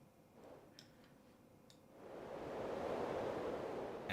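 Synthesized jet engine noise at quarter thrust, a soft filtered hiss that swells after about two seconds into a louder, steady broadband roar with a few faint ticks early on.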